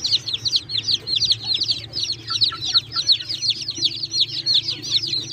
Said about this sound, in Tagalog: Dito po natin ilalagay ang ating mga bagong pisang sisiw.